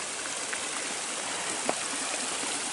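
Soldier Creek flows with a steady, close rushing and babbling of water, constant throughout with a small splash near the middle and no talking.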